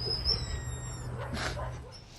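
A police sniffer dog whimpers and yips faintly over a low steady hum and background noise, with short high whines scattered through the moment.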